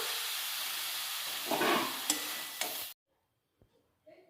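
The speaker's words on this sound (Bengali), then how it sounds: "শাক ভাজাটা এখন হয়ে গেছে, আমি এবার নামিয়ে ফেলছি।" Grass pea greens (khesari saag) frying in a pan give a steady sizzling hiss with a few stirring scrapes, then cut off abruptly into near silence with faint clinks.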